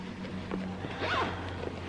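The zipper of an inside compartment of a Coach handbag slides open in a couple of quick rasping pulls, close up, over a low steady hum with no talking.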